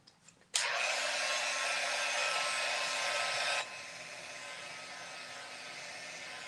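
Hair dryer switched on to dry paint on a mixed media collage, a loud steady whooshing roar close by that drops to a lower, softer setting partway through.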